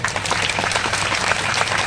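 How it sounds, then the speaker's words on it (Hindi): An audience at a Hindi comedy poetry show applauds, dense continuous clapping that stays loud and even throughout with no speech over it. "लेकिन ताली बजाओ एक बार ठीक ठाक"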